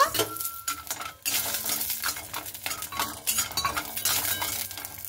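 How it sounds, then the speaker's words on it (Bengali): Bori lentil dumplings frying in oil, a close sizzle mixed with frequent metallic clinks and scrapes of a spatula against the pan, irregular and busy, with no talking. "এবার আমি বড়িগুলোকে ভেজে নেব।"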